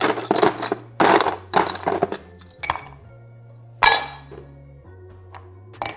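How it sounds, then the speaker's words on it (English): Ice cubes drop and clink into a glass of ginger beer for a rum cocktail, giving several close, sharp clinks and rattles in separate bursts over a low background hum. "And put our ice here, like so."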